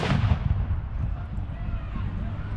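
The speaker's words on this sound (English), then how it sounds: "The Royal Horse Artillery over there opened up their cannon fire." A Royal Horse Artillery cannon booms at a battle reenactment, one heavy blast near the start with a long rolling rumble decaying afterward across open ground.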